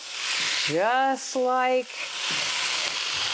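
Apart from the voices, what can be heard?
chicken and vegetables sizzling in pan for fajitas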